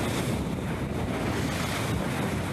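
Steady wind and sea waves surround the sailing frigate Hermione off Camaret near Brest. The roar is constant and loud, with heavy wind buffeting on the microphone and no voices.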